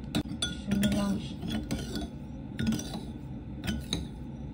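A spoon stirring a fish sauce dressing with lime juice in a bowl for spring rolls, steady clinks and scrapes of metal on dish, close and fairly loud, with no talk.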